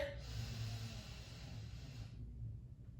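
One long, deep breath is drawn in close to the microphone during a leg relaxation exercise, an airy inhale lasting about two seconds before fading into quiet.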